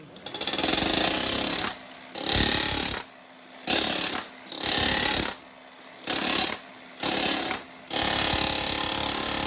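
A DeWalt DCH773 rotary hammer chisels tiles off a surface under dust extraction, hammering loudly and close in about six rattling bursts separated by short pauses.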